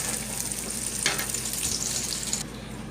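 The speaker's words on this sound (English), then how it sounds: "Hear the sizzling?" Stew browning in a covered pot sizzles steadily, a soft continuous frying crackle with a few brief clinks or pops, fairly close and moderate in level, with no voices.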